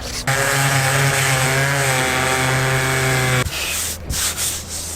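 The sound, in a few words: power sander sanding car paint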